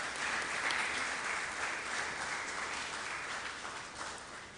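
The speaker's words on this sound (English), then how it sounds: "I think this is also an award worthy of applause." An audience applauds steadily, a dense patter of many hands clapping at an even level throughout, tapering slightly toward the end.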